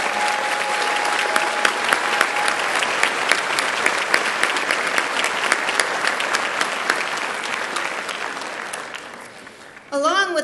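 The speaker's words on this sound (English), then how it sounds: "Let's applaud them." An audience at a 2015 college commencement claps steadily for award winners, dense and even applause that tapers off near the end before a brief louder sound cuts in.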